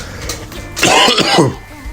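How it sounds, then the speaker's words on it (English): A single close, harsh cough with a throat-clearing quality, loud and isolated against quiet background. "Sorry, I coughed your ears."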